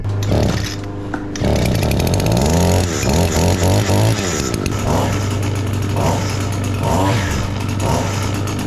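An Echo string trimmer engine is pull-started and sputters and pops into life, then settles into a loud, buzzing two-stroke idle with brief revs, close to the listener.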